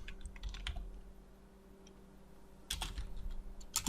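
Computer keyboard typing in a quiet room, a few scattered key taps early, then a louder burst of clicks near the end, with a faint steady electrical hum underneath.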